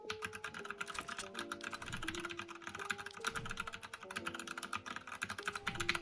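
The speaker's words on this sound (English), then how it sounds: "The keys are really clean. Like, they sound super nice." Brisk typing on a Redragon Draconic K530 mechanical keyboard, rapid clacky keystrokes in an uneven rhythm, close and clear over soft lo-fi background music.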